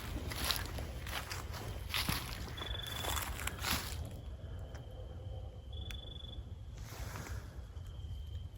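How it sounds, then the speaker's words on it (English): Crickets chirping at night in quiet woodland, faint and distant with thin repeated trills over low background rumble, along with some soft rustling and footstep-like sounds nearby. "It is nice hearing crickets tonight."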